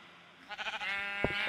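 A sheep in the Minecraft video game bleats in a few short wavering calls, moderately close and fairly quiet, followed by a brief thump, with no speech.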